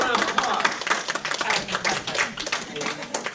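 Audience applause in a talk or training session, dense, continuous clapping from many hands at close range, steady throughout without a break.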